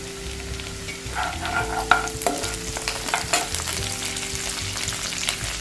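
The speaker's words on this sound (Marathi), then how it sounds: "कांदा थोडा नरम करून घेतला कढीपत्ता घालते" Onion and curry leaves fry in a pan for an ivy gourd (tondli) bhaji, giving a steady close sizzle with scraping and stirring clatter throughout and no talking.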